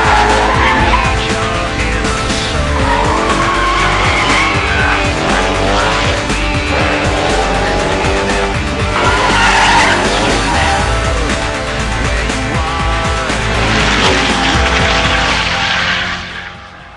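A Koenigsegg sports car drives hard, its exhaust roaring and tires squealing in long sliding bursts, loud and close with the engine note rising and falling, before it fades at the end.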